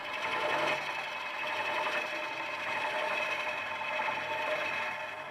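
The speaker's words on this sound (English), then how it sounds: "So you're just doing these little arcing cuts and working your way down the centre." A ProForme hollowing tool making small arcing cuts into spinning wood on a lathe, a steady high whirring and hissing scrape that swells slightly with each cut, fairly quiet and continuous.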